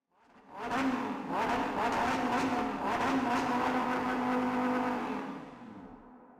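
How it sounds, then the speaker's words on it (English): Ford Shelby GT350 with a 5.2-liter flat-plane V8 driving, a loud, close engine roar that swells in and holds steady for several seconds before fading out, with no talking. "The GT350 is one of the most guttural cars you will ever hear on this channel"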